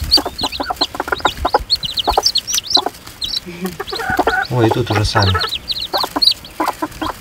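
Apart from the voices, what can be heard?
chickens clucking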